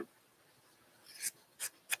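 Quilt backing fabric being trimmed, heard as three short, soft cutting or rasping strokes spaced apart near the end of an otherwise quiet stretch.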